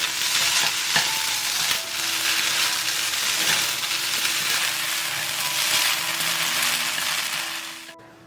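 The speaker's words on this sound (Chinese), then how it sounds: "把米粉炒香了之后呢，加入1把葱段，翻炒均匀就可以出锅啦" Cantonese rice noodles with scallions are stir-fried in a wok over a loud, continuous sizzle, with the scrape and toss of stirring running throughout and no voices.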